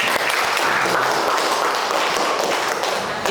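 Sustained dense applause from a classroom audience during a sociology teacher-training lesson, loud and steady throughout with no talk over it.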